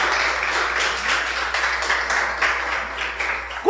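Church congregation applauding during a Portuguese-language sermon, a steady wash of clapping hands sustained throughout at moderate level with no talk over it.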